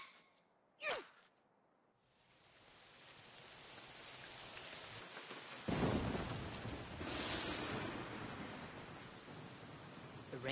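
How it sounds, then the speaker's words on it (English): Heavy rain pours steadily in an anime scene, a sharp thunder crack early on and a louder rumble of thunder midway, the downpour swelling and staying dense throughout with no talking. "The rain seems to be getting worse."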